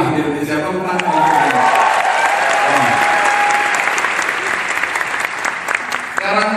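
A seated audience at an ESQ leadership training session bursts into loud, sustained applause. A voice carries over the clapping partway through.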